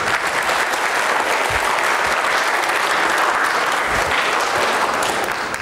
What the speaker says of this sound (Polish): brawa dla Anity